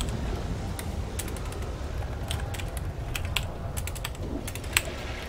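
Soft, quick typing on a computer keyboard, a few light clicks in short bursts, heard alone over a steady low background hum.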